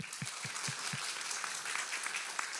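An audience applauds after a hackathon final pitch, a soft, distant patter of clapping with a few louder nearby claps at the start.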